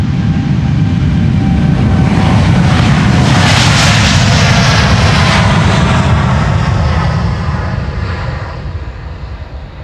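KLM jet airliner bound for LAX taking off from the Polderbaan runway 36L at Amsterdam Schiphol on a sunny morning, a loud, sustained engine roar that swells and then slowly fades as it climbs away.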